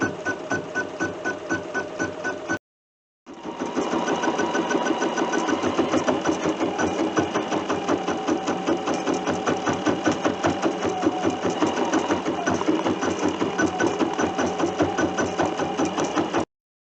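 A Bernina sewing machine stitching a quilt label in an embroidery hoop chatters in a fast, steady rhythm, pauses briefly, then resumes and runs on close and loud.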